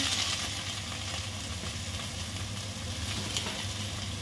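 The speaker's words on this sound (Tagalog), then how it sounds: "ginisang gulay na naman tayo ngayon" Cabbage, cauliflower and beans sauté in a hot pan, giving a steady, close sizzle with a faint low hum underneath and no talking.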